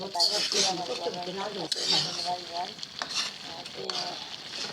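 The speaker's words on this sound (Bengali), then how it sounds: "দেখেন মশলাগুলো কষাই, এখন তরকারিগুলো দিয়ে দিয়েছি, সবজিগুলো দিয়ে এগুলো ভালো করে কষাই নেব" Spices and mixed vegetables for a dried fish curry fry and get stirred in a pan, a continuous sizzling hiss under a voice talking throughout.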